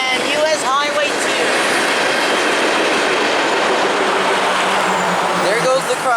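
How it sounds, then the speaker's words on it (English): A BNSF freight train rumbles past loud and close at a road crossing beside a highway in Sultan, Washington, with a continuous roar of railcars, wheel clatter and brief squeals throughout. "There the train has passed."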